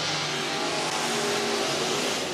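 Race cars at Whynot Motorsports Park roar past as a continuous loud engine blare, a dense wash of revving motors holding steady throughout with no nearby talk.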